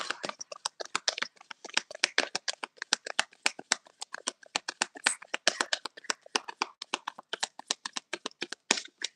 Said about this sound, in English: All right, I'll do two more shuffles.